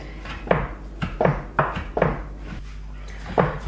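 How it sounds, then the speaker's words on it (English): A kitchen knife chopping raw beef for Polish tartare on a board, a run of close, dull knocks coming about every half second with short pauses, no talk over them. "With my poor knife, it took about 5 minutes of chopping non-stop."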